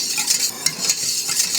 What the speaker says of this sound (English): I'm just stirring my cream in here